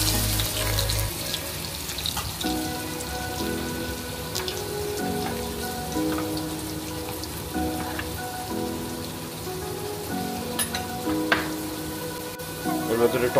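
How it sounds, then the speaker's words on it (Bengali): Potatoes frying in oil with a pinch of black cumin for a Bengali Amudi fish jhal, being stirred; a steady crackling sizzle with a few utensil clinks and a low hum underneath. "আলুটাকে ছেড়ে হালকা একটু 1 চিমটে মতন কালো জিরে দিয়েছি"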